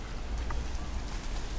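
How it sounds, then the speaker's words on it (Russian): Dense, steady heavy rain in the old town of Klaipėda, Lithuania, hisses and patters continuously with a low rumbling undertone, no voices heard. "Блин, дождь еще сильнее пошел."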